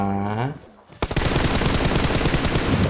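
PUBG Mobile gunfire: a dense, sustained burst of rapid automatic shots, loud and close, starting abruptly after a voice speaks briefly.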